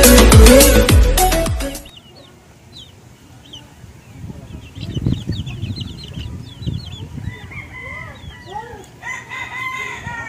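Backyard chickens cluck and chatter while being fed maggots. A loud rooster crow opens the scene, then softer overlapping clucks and calls follow from the flock close by, with faint scratching and shuffling underneath.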